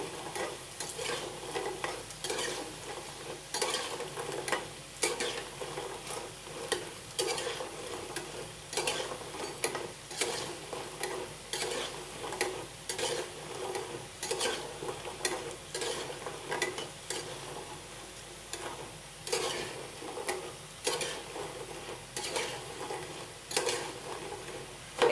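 Jhinuk pitha, shell-shaped rice cakes, fry in oil with a steady crackling sizzle and frequent sharp stirring clicks of a utensil against the pan, close and constant with no voices.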